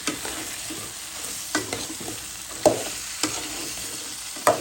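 Potato, flat beans and cucumber are stirred into a frying pan with dried shidol fish, a soft sizzle beneath repeated spatula scrapes and taps at a loose, uneven rhythm.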